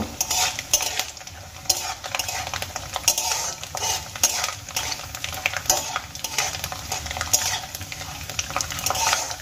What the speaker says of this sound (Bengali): সমস্ত নারকেলের কুচি আমি এই তেলের মধ্যে দিয়ে দিলাম। নারকেলগুলো আমি হালকা করে ভেজে নেব।